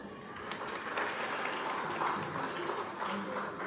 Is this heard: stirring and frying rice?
no